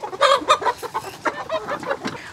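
A flock of ready-to-lay pullet chickens clucks in a backyard farm, several close, overlapping short clucks and murmurs in a quick, uneven patter with no talking.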